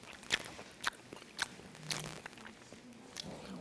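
Someone chews chewy potato ongsimi dumplings up close, soft wet bites and mouth clicks arriving every half second or so, quiet and alone with no talking.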